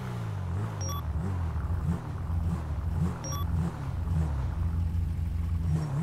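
A car engine in a police video game drones and rises in pitch as the vehicle drives through traffic, sounding steady and close with no one speaking.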